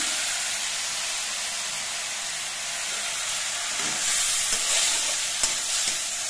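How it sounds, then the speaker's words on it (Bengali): Malabar spinach seeds fry in a pan over a lowered gas flame, giving a steady, close hiss of sizzling oil with a few soft stirring scrapes and light crackles near the end. "এতেই কিন্তু পুঁইয়ের বীজগুলো বেশ ভালো মতো ভাজা হয়ে যাবে।"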